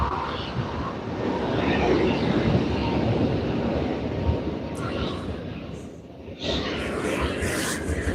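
A Delta flight aircraft at LAX airport: a broad, steady jet roar fills the clip, with a brief dip near the end before the rumble resumes, and a voice talks over it.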